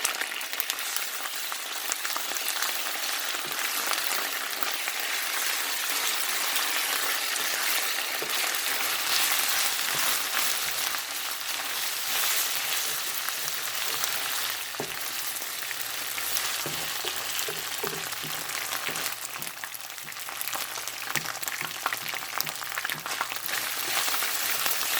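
Garlic and ginger paste sputters and sizzles steadily in a hot frying pan, a loud continuous crackle with occasional stirring scrapes and no talking throughout.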